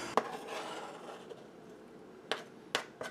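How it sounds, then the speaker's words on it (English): A few sharp knife taps against a cutting board while mincing garlic, scattered and uneven, with quiet background noise between the chops. "we're just going to keep chopping until we get a nice mince on them"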